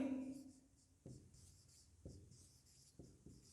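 Chalk or marker writing on a classroom board during a Class 10 science lesson on reflection of light: a few sharp taps and short strokes roughly once a second, after a brief bit of a voice at the start.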